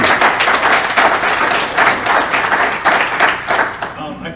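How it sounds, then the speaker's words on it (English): A quick round of applause from a conference audience at a crypto mining panel, loud, dense clapping in rolling bursts that thins out near the end. "just a quick round of applause"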